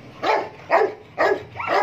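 A muscular Boxer dog, a multiple-champion show dog, barks four times in a steady rhythm, each bark loud and close with short pauses between, and no voices.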